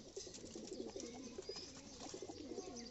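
Racing pigeons, one of them sick, coo in repeated low, throaty warbles, close by and steady throughout, with faint chirps mixed in.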